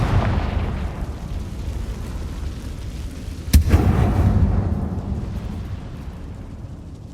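A Confringo spell explodes in a mine in Hogwarts Legacy: one loud, sudden blast midway, followed by a deep rolling rumble that fades over a steady low ambience.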